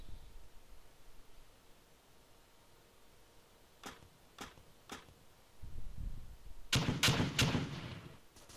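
Three sharp distant shots crack out in the video game ArmA II, then a quick burst of louder gunfire over a low rumbling background, no talking.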